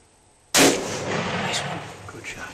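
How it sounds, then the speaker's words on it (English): A single loud rifle shot fired while hunting a doe, a sudden sharp crack with a long trailing echo ringing out across open ground. "You go ahead and shoot it."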